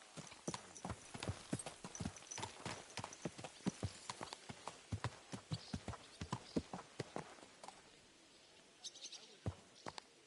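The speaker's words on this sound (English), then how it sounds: "Is that Hans' horse?" Horse hooves clip-clop steadily in the video game Kingdom Come II, a brisk run of close, crisp hoof strikes that slows and thins toward the end, with faint bird chirps in the background.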